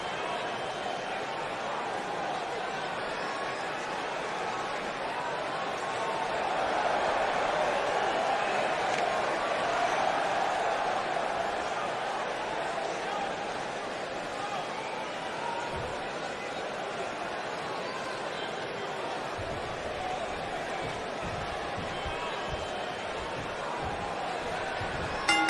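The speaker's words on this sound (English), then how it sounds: "it sounds to me like this crowd already picked the one who they want to win this match" A wrestling arena crowd keeps up a continuous distant roar and murmur of cheering, swelling slightly in the middle, heard without close speech.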